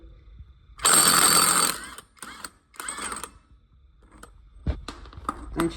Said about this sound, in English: you got to get a 27mm impact socket, put on that axle nut, and it should